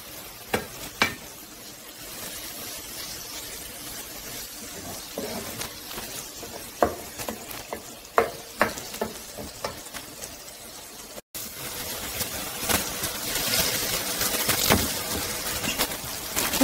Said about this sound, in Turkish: Bir yemek kaşığı kadar da salçamı koyup güzelce karıştırmaya devam edeceğim.